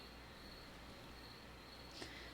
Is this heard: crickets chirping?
yes